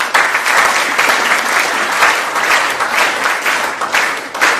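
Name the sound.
audience applause at a seminar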